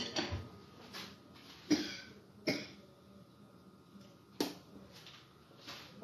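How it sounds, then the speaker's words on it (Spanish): A person coughs several times in a quiet home kitchen while baking a basic vanilla cake. The sharp, separate bursts are spread across a few seconds at a low level, with no speech between them. "Perdonen ustedes, es que traigo un poquito de tos"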